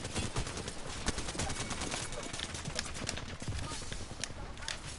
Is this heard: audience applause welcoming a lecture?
no